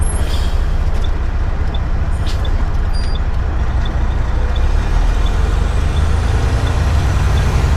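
A semi truck hauling a car carrier trailer with Nissan Titan pickups lifts its trailer, a loud steady engine and hydraulic drone with faint periodic beeps running throughout and no talking.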